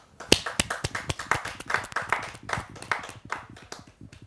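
Sparse, sharp clapping from a kavi sammelan audience in Delhi welcoming poet Madhubala Singh to the stage, separate hand claps in an uneven rhythm, close and fairly loud, with no talk over them.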